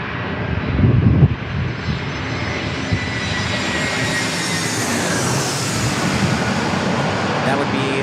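A Delta Airbus A321neo jet arrives at San Diego International Airport with a sustained, loud engine roar and a brief heavier swell near the start, while a voice talks faintly beneath it.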